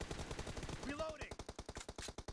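Rapid automatic fire from an M416 rifle in a mobile shooting game, an even fast rhythm of close, punchy shots running steadily through the whole stretch, with a brief voice cutting in partway.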